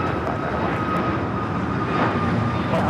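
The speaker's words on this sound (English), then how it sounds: "This is Southwest Airlines 2128 taking off to Austin on the MAX 8" A Southwest Airlines Boeing 737 MAX 8 takes off at Los Angeles airport, its jet engines producing a loud, steady roar that stays constant through the brief moment, with no talking.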